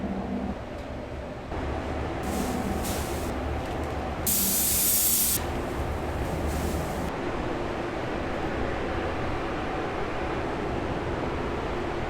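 Texture coating sprayed onto the lower side of a GM truck bed, a steady close hiss with short bursts and one louder blast, running continuously throughout.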